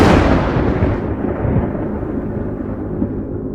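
A loud, close thunderstorm rumbles heavily at the start and then fades into a long, dark roll of thunder, with no voices.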